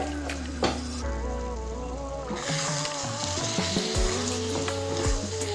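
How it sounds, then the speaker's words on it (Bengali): Marinated chicken frying in a pan for a cauliflower chicken curry, a steady sizzle with stirring noises, joined midway by a louder humming tone and scattered clatters. "ম্যারিনেট করা মাংসটা আমি ভালোভাবে কষিয়ে নেব।"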